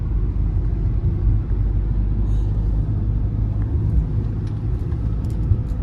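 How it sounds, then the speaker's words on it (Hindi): A car climbing a high mountain road near Manali in first gear, its engine droning with a low, steady, straining rumble from inside the cabin, continuous throughout with no talk. "वैसे वैसे गाड़ी जोर मारनी शुरू हो गई है, मतलब टर्निंग पे तो पहला गियर मांग रही है।"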